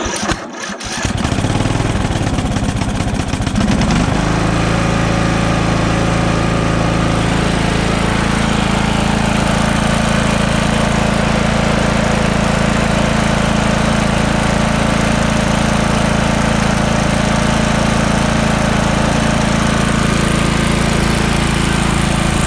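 A Craftsman riding mower engine cranks and catches after a brief starter whir, then settles into a loud, steady close-up idle that drones on unchanged for the rest of the clip.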